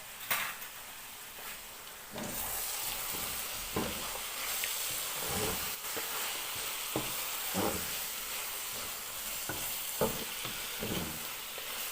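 Cashews, almonds, walnuts and pistachios sizzle in a pan with grated carrots and coconut for gajar ka halwa, a steady frying hiss broken by scrapes and clinks as a spoon stirs against the pan.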